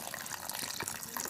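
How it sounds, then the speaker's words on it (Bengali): A short splash of water poured into a cooking pot of simmering turtle meat curry, a brief close gurgling pour with no voices. "আর একটু জল দেব"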